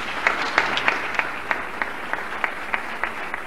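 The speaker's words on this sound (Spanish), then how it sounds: "queremos agradecer ao irmão Olegário, eu peço uma salva de palmas" Audience applause at a church gathering in Brazil, steady sustained clapping from a crowd in a room, with regular sharp claps standing out over the wash.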